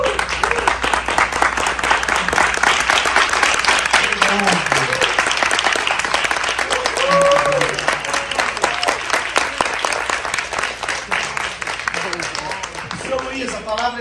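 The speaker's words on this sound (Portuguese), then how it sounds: "a quem eu peço um aplauso de pé nessa sala" A hall audience on their feet giving sustained applause, dense rapid clapping throughout, with voices and a few shouts mixed in underneath.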